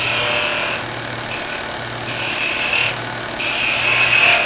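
Skew chisel cutting V cuts into wood spinning on a lathe, giving a loud, steady whirring hiss that rises and falls in several bursts as the edge meets the work, with no talking.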